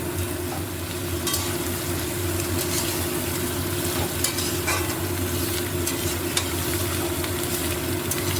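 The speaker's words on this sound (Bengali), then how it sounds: "এবার আমরা হালকা করে যে আনাজগুলো করে রেখে দিয়েছিলাম সেগুলো হালকা করে একটুখানি ভেজে নেব" Mixed vegetables lightly fried in hot oil for a dal, producing a loud, dense continuous sizzle with faint scraping ticks throughout and a low steady hum underneath.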